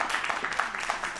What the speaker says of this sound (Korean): 오늘 훌륭한 강연 전해주신 김은실 컨설턴트께 큰 박수 부탁드리겠습니다